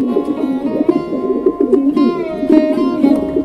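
Low, throaty cooing from a female pigeon in a coop repeats steadily in soft rolling phrases, close by, with faint higher chirps in the background.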